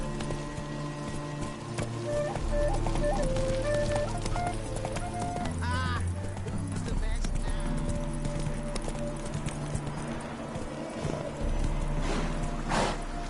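Hooves of Geralt's horse Roach in the video game The Witcher 3 clop in a steady rhythmic gait, near and clear over a continuous music bed, with a brief whinny and some speech.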